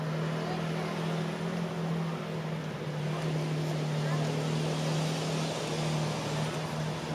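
Tank engine at Bovington Tank Museum running without a silencer through a fishtail exhaust, a steady droning rumble with a constant low hum and wind noise, continuous throughout, with faint voices underneath.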